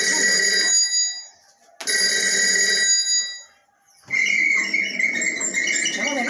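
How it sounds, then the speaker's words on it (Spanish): A household telephone bell rings in three bursts separated by brief pauses, loud and close, with no other sounds. "y acá está justo el teléfono, es el sonido del teléfono"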